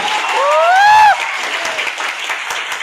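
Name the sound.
applause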